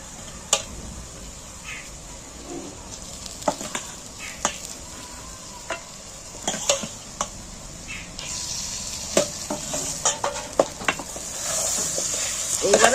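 Marinated mutton sizzles on a bed of fried onions in a pot over a wood fire for a village-style curry. A steady hiss is broken by repeated sharp knocks of stirring and grows louder toward the end.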